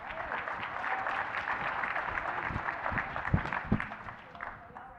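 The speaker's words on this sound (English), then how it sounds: "So, huge round of applause." An audience at a software testing conference keynote applauds, a dense wash of clapping from many hands with a few louder claps standing out, mixed with some crowd voices before fading at the end.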